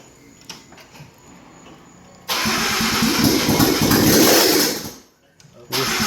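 A flood-damaged Porsche 981 with open headers and no exhaust cranks and fires into a loud, raw roar that runs a few seconds, cuts out, and then catches again.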